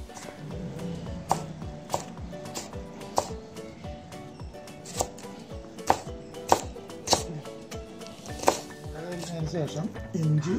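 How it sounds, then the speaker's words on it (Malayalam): A knife chops chilies finely on a cutting board with steady, sharp thuds about twice per second, some louder strikes standing out, over a low background hum. "അതിനുശേഷം മുളക് അരിഞ്ഞ്"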